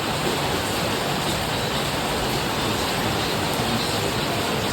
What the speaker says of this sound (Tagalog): narinig niyo yung ulan